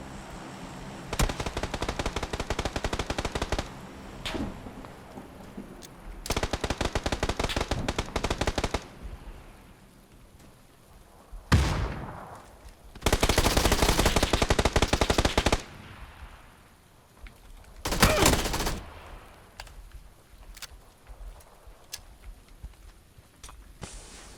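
Automatic gunfire in PUBG: several loud, sustained machine-gun bursts lasting a few seconds each, separated by short pauses and scattered single shots, with no talk over them.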